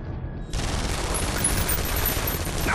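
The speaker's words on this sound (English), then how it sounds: "Open fire!" Soldiers open fire in an X-Men Origins: Wolverine game cutscene: after a brief quiet moment, a sudden dense burst of rapid gunfire erupts and continues loud and unbroken.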